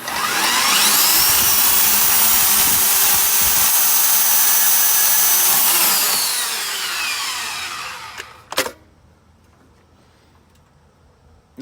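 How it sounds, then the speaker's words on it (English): A portable band saw, a portaband, cuts steel during a John Deere 2520 ball joint repair, a loud steady whine for about six seconds that winds down and stops, followed by a sharp clank and near quiet. "so I can get the portaband on there and zap it, cut it through"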